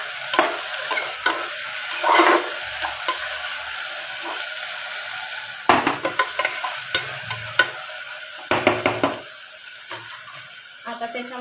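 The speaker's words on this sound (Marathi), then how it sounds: "टोमॅटो छानपैकी परतून घ्यायचा." Chopped tomato sautéed and stirred in a pan while making masale bhaat, a soft steady sizzle with scattered scraping clicks of the spoon against the pan.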